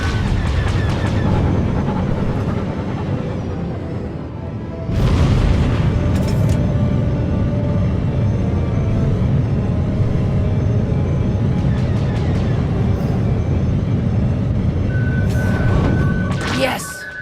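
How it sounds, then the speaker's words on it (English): A spaceship in a video game under attack, with heavy booming explosions and a continuous rumbling barrage of weapons fire, loud and dense, broken by sharp impact bursts and overlaid with voices talking. "We're taking fire."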